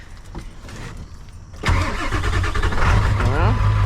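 A diesel engine cranks and catches after its glow plugs are warmed, then settles into a loud, steady idle with a whining tone. People talk over the cranking and the idle.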